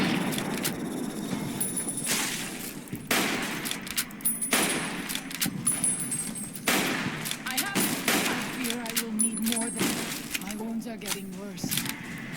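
Rapid gunfire in the video game Fallout New Vegas, dense bursts of automatic shots and scattered single cracks, loud and continuous across the whole stretch, with a voice talking over parts of it.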